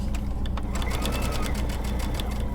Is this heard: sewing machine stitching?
yes